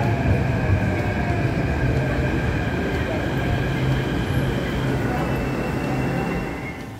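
Steady rumble of a metro train in a São Paulo station, a continuous roar with faint squeals, gradually fading out at the end.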